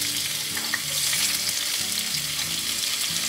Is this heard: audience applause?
no